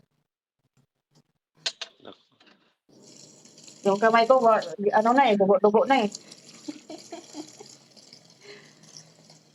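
Cold tap water runs while laundry is washed by hand, with a steady splashing flow that continues under a woman's speech and a few soft knocks near the start.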